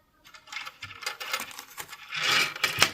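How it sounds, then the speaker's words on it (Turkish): Metal zipper on a crocheted macramé-style handbag rattling and clinking in quick, irregular bursts as the yarn is worked, close and fairly soft, with a brighter jingling flurry near the end. "Şimdi hemen biraz fazla ses çıkıyor fermuardan dolayı"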